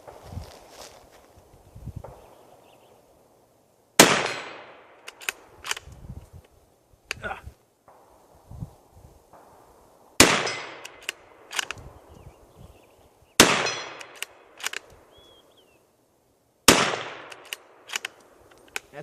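A Ruger American Ranch rifle in 300 Blackout fires several loud, sharp shots spaced a few seconds apart, each followed by a brief echo, with quieter handling noises and footsteps between them.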